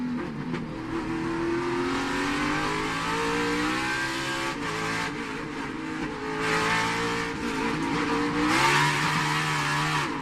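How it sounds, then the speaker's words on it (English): Martin Truex Jr.'s NASCAR Cup car at the Brickyard holds the throttle open, a loud, sustained engine whine with climbing and falling pitch as other race cars roar past, with no talking. "So listen to Truex here in the throttle."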